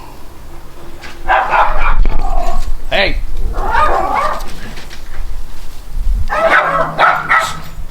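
Dogs bark in short bursts, fairly close and loud, while a person calls out over them.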